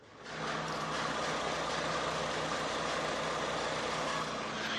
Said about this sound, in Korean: 굉장히 정숙한 엔진 소음 기대를 하실 수가 있는 차량입니다